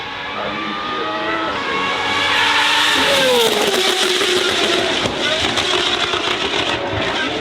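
A high-revving engine screams as a track-only Gordon Murray Automotive hypercar with free exhaust accelerates, the pitch climbing and shifting through gears, loud and sustained with a raspy exhaust edge.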